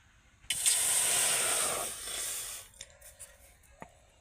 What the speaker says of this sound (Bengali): এবার আমি কড়াইতে দিয়ে দেব এক গ্লাস জল